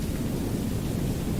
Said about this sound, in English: The rain makes it real awkward with the idea, don't you?